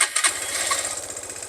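A Suzuki VanVan motorcycle with a stock exhaust idles in neutral, a quiet, smooth, steady low putter with soft rhythmic pulses close by.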